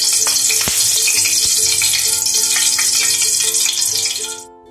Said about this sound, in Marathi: तेल गरम आहे, त्यामध्ये आपण मिरची तळून घेऊया.